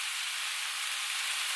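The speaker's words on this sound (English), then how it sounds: "I like to put coarse black pepper when I'm frying cabbage with the bacon and the onions" Cabbage frying with bacon and onions in a pan gives a steady, close hiss of sizzling fat, even and unbroken, with no talk over it.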